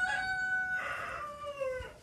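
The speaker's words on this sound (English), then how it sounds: "thank you, Rooster." A rooster crows once in a backwoods Appalachian hollow, a clear, fairly close call that rises into a strained middle and trails off over about two seconds, with no talk over it.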